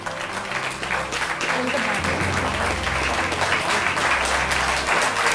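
Loud, sustained applause from an audience at a ceremony honouring medal-winning athletes, with steady clapping throughout and a voice speaking over it.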